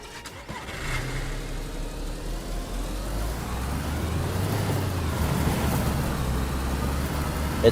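A car in a video game starts and pulls away, its mid-pitched engine rising into a steady drone that builds gradually, heard alone and fairly close.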